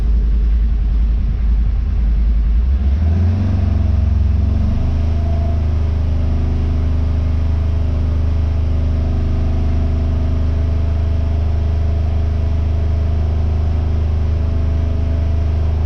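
A car engine with a newly installed clutch is held at about 3,000 RPM, giving a steady, loud low rumble that settles into an even drone after a brief rise in the first few seconds, with no talking.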